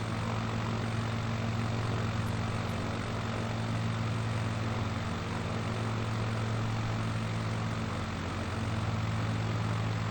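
A propeller aircraft engine in a flight sim, flying low through Glen Canyon: a constant droning hum at steady pitch, loud and unbroken throughout, with no talking.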